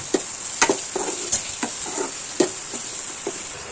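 Chopped capsicum and vegetables for masala Maggi being stirred and roasted in a pan, with a continuous sizzle punctuated by regular sharp spoon scrapes and taps, close and alone.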